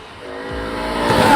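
A BMW E60 M5 engine revs up loudly and close, its pitch rising steadily over a second and a half.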